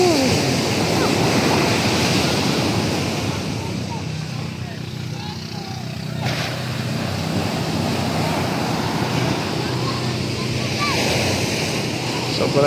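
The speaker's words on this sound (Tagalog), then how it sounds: "Alon." Ocean surf on Sabang Beach in Baler, Aurora, a continuous loud wash of breaking waves with wind noise, with voices talking amid the roar.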